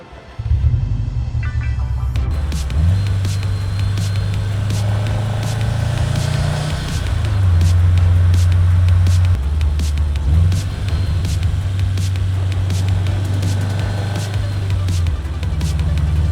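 Subaru WRX or STI with an EJ257 engine pulling away and driving, heard from inside the cabin as a loud, steady low engine drone that rises and shifts as it moves through the gears.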